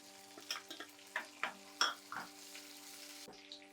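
Onion and garlic frying in a pan for green gram curry: a soft sizzle under several distinct spoon scrapes and knocks against the pan in an irregular rhythm, close and fairly quiet, no voices.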